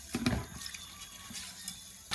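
Tap water runs and splashes while wild bird meat is washed in a sink, a steady close stream with a few sloshes and no talk.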